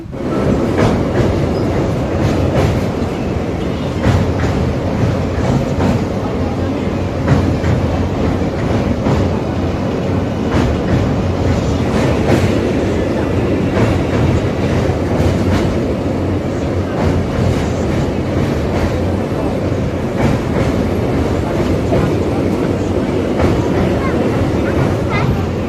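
A moving passenger train heard from inside the carriage gives a continuous loud rumble with a steady clickety-clack of wheels over the rail joints throughout.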